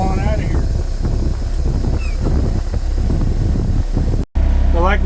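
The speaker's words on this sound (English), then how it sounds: "the wind's blowing pretty good" Strong wind gusting across a grain harvest field, roaring as heavy buffeting noise on the microphone beside running farm machinery, with a short dropout near the end.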